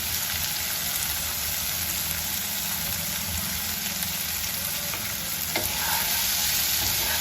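Mushroom fry with salt, chili, garam masala and kasuri methi being stirred in a pan, a steady loud sizzle with a sharp clink near the end, close and without talking.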